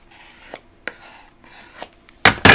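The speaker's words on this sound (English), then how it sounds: "go ahead and use my big old spatula, rub it against the desk again" A big spatula rubs firmly against a desk while pressing a handmade notebook, making repeated scraping strokes that end in two louder, harsher rasps close by.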